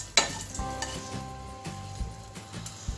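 Ingredients for a coconut milk and potato soup sauté in a pan, with a sharp burst of sizzling at the start settling into steady frying and stirring. No one speaks over it.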